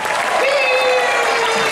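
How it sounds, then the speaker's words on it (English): Applause from an audience at a stage show at Disney's Hollywood Studios, steady and fairly loud, with a held musical tone and some crowd voices blended in. "Let's give a big round of applause for Selena Arvizo"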